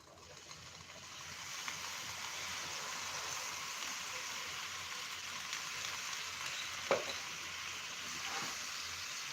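Water poured into a hot griddle pan while kulcha cooks gives a steady, even sizzle and hiss throughout, with a couple of brief faint clicks near the end and no talking.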